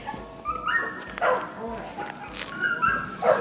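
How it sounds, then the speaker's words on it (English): A dog gives short, high yips and whiny barks in quick bursts, fairly close, with some rustling in between. "Don't you just love dogs so much?"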